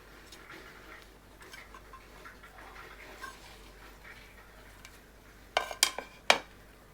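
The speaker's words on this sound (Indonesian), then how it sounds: "kita campurkan bumbu yang telah dihaluskan dengan tempe" Tempeh being mixed with ground spice paste that contains kencur, probably for tempe mendol: quiet scraping and stirring for several seconds, then a few sharp clinks of a utensil against a bowl near the end.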